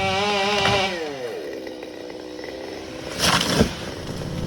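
A chainsaw bucks a log on a woodcutting job, its engine whining up and then settling into a lower drone, with a sharp rough burst of cutting near the end, loud and close.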